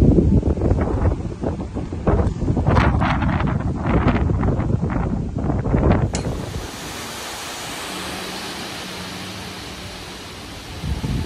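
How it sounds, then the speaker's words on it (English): Strong wind and rain from Tropical Cyclone Kirrily in Townsville roar and buffet the microphone with a steady rushing wash of storm noise, gusting loudly and then settling into a constant heavy hiss. "You can see it's really windy and rainy."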